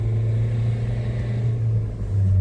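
A car's engine labors steadily uphill on a snowy mountain road in Spiti, a continuous low droning rumble holding close and even throughout, with no voices.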